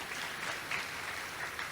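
Steady applause from a church congregation during a sermon, a dense even patter of many hands that holds at a moderate, slightly distant level for the whole moment without voices.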